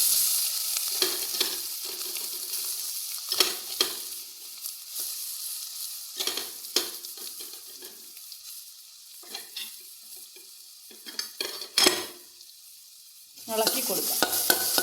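Coconut and beans stirred in a frying pan for a Kerala vanpayar thoran, with soft sizzling broken by repeated scraping strokes of a spoon and several louder clattering bursts near the end.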